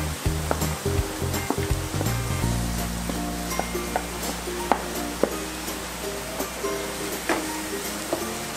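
Shredded cabbage goes into a hot pan for Indian-Chinese veg manchow soup, with clattering knocks at first, then a steady sizzle broken by repeated light spatula taps, and no voices.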